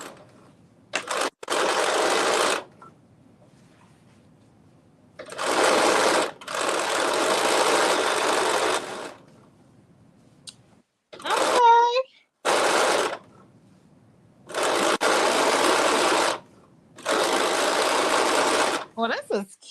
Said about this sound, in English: I am stitching this up.